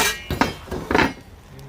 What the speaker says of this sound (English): Go ahead and give that another stir